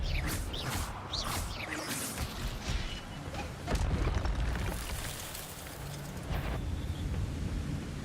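The Expelliarmus spell is cast in a video game, a series of rough bursts and booming whooshes over a rushing background, with one heavier boom midway.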